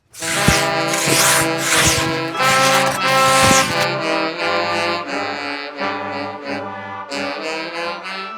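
Rhythmic rasping strokes of a saw cutting wood, loud and close, for a few seconds, then giving way to a sustained tonal drone.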